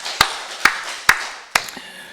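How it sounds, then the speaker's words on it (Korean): Four sharp, evenly spaced claps ring out in a church service with a Korean congregation, each a bright hit with a short reverberant tail, loud and alone with no talking. "우리 살아계신 하나님께 박수 좀 드리겠습니다"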